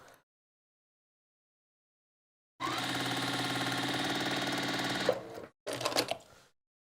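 A sewing machine stitches quilt pieces in one steady, fast run of about two and a half seconds after silence, then a brief second burst, close up with no talking.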